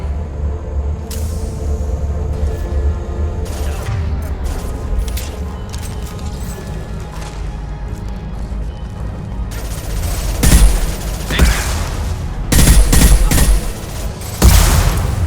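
Gunfire and heavy impacts in Mass Effect 2 Legendary Edition sit over a low rumbling combat backdrop, with a cluster of loud sharp shots and crashes bunched toward the end.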